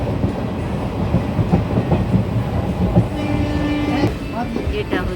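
A moving passenger train rattles along the rails near Garhbeta station in West Bengal, with a loud continuous rumble, rhythmic clatter and a high squeal near the end, heard from inside the carriage.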